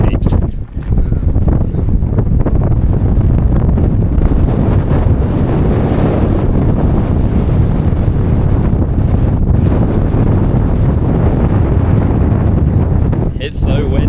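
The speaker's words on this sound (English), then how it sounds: "It's so windy. So windy." Strong wind buffets the camera microphone at a canyon viewpoint at Charyn Canyon in Kazakhstan, a loud, continuous low roar that persists almost unbroken, with a voice speaking briefly under the rumble.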